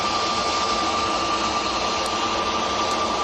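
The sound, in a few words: EasyJet Airbus A320 jet engines on runway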